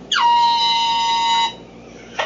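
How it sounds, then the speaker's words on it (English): A single loud air horn blast sounds close up, holding steady for over a second before cutting off, followed by a brief second burst. "It's an air horn."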